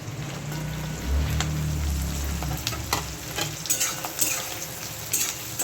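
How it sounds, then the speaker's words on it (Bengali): Capsicum and onion frying in a pan for a Bengali fish lunch dish, a steady close sizzle with stirring scrapes and a few louder spatters, no talking. "ক্যাপসিকামগুলো দিয়ে পেঁয়াজটা দিয়ে হালকা ভেজে নেব"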